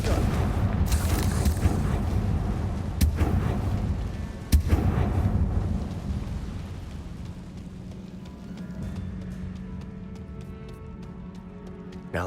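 Confringo blasting spells go off in Hogwarts Legacy as a string of heavy booms and sharp bangs, loudest early on, then fading to a quieter rumble with scattered crackles.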